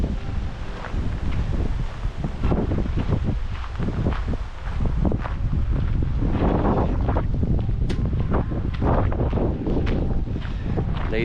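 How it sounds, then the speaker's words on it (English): Wind buffets a microphone outdoors at a Renaissance festival, a loud continuous rumble with gusty bursts and rustling throughout, and no other sound standing out clearly. "Back into the windy area."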